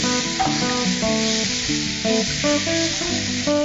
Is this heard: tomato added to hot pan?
yes